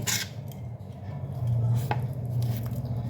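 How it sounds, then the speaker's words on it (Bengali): An onion being cut with a dull kitchen knife, a few close, dull chopping knocks against the board over a low steady hum, with no talking. "পেঁয়াজটা কুচি দিই আর আমার ছুরিতে নাই একদমই ধার অনেক কষ্ট করে কাটতে হয় আমাকে"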